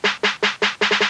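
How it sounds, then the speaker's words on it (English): Snare roll leading into the drop of a phonk beat, seven evenly spaced bright snare hits accelerating slightly toward the end, loud, punchy and alone. "You can make a little snare roll before the drop."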